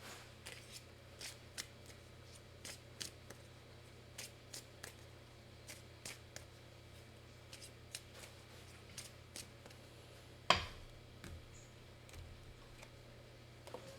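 Tarot cards are drawn and handled in a quiet room, with soft scattered ticks and slides of card stock spaced every second or so and one louder flick midway, all faint against a low steady hum.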